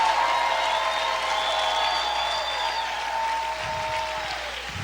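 A church congregation applauds for the King during a sermon, a steady wash of clapping with sustained singing or organ-like tones layered over it, fairly loud and continuous before easing slightly near the end.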